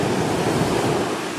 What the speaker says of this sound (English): there are some monster waves around